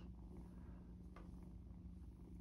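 Foster kittens purr together in one place, a soft, steady low rumble that continues unbroken and quiet throughout with no talking.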